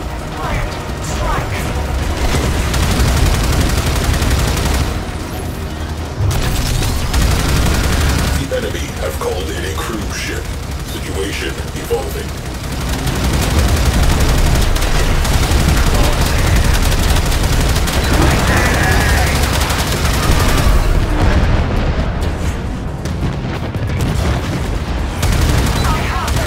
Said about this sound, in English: Let's soften them up. Torpedoes, fire at will.